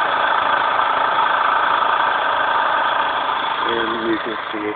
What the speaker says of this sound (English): You can really not see the speed of this motor, but you can hear it a bit.